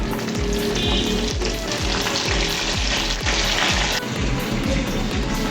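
Curry leaves crackling in hot oil with popping mustard seeds, a loud continuous sizzle with sharp spattering bursts and rhythmic pops close up, no talking.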